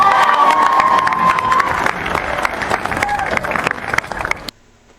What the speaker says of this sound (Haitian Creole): Applaudis pour Jean-Ernest Muscadet s'il vous plaît.